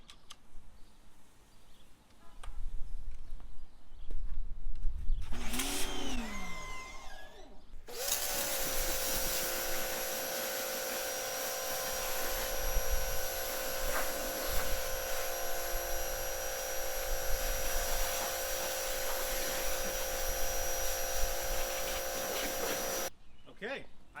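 A Greenworks pressure washer with a 25-degree nozzle kicks in after several seconds of quieter handling noise, then runs as a loud, steady motor drone mixed with spray until it cuts off abruptly near the end.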